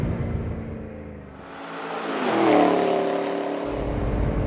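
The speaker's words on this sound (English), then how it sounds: "A nice V8 soundtrack the whole way." A 2013 Chevrolet Camaro SS V8 engine revs and pulls hard under acceleration, a loud rising drone that swells to a peak midway and then holds steady, with no talking.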